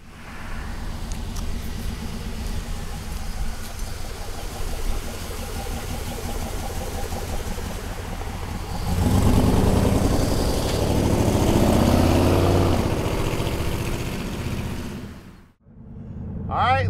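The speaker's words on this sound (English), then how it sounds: "Let's go for a ride in this pick-em-up truck with the Corvette suspension, the LS power." A 1949 Chevrolet pickup with an LS engine runs nearby, idling steadily and then revving louder for several seconds before cutting sharply, with someone talking over it at times.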